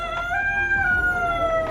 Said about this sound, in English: What's that rooster doing here?